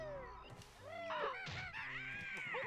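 Birds in Banjo-Kazooie give a series of honking, cawing cartoon squawks, several calls in quick succession, close and prominent over quiet game background.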